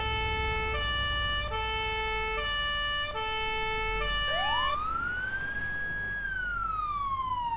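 Police car siren in the Arma 3 video game, starting with a loud alternating two-tone wail in short repeated bursts, then switching to a long rising and falling sweep, close and steady with no talking.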